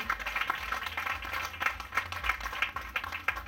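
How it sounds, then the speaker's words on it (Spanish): Audience applause at a cattle ranchers' recognition ceremony during the 2013 Martínez de la Torre fair, honoring the ranchers' fair queen: a steady patter of fairly faint handclaps at a distance, with no talk. "un aplauso para Nicole, por favor"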